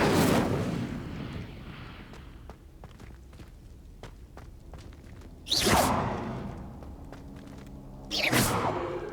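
Incendio fire spell cast in Hogwarts Legacy, two loud whooshing bursts of flame erupting several seconds apart, following an opening burst and scattered footsteps between them.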